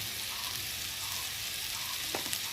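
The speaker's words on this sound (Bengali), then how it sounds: "আলু বেগুনটা ভাজা ভাজা হয়ে এসেছে" Potatoes and eggplant fry in a pan, giving a dense, continuous close sizzle with one small stir or scrape near the end and no talk.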